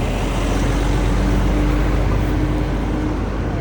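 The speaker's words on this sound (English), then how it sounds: "It's a really loud car." A loud car rumbles nearby in a parking area outside stores in Macon, a steady broadband engine roar with a faint low drone held throughout.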